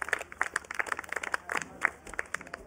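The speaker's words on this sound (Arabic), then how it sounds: "إذا تصفيقة تصفيقة على دعاء بنتي" A small group of children claps for a classmate in a classroom setting, quick uneven handclaps lasting a few seconds with no talking.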